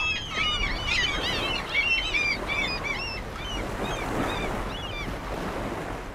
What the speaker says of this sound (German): Möwen weisen den Weg nach Stralsund